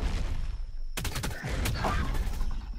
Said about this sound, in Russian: это снайпер меня пытается снять